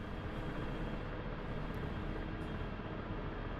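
A helicopter engine and rotor in the DCS World flight simulator give a steady, loud, dense roar with no change in pitch, filling the whole stretch with no talking.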